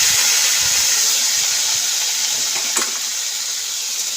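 Tomato goes into a pan of masoor lentil soup with potatoes, beans and carrots, setting off a loud, steady sizzle and hiss throughout, with a brief stir or clink near the end and no talking.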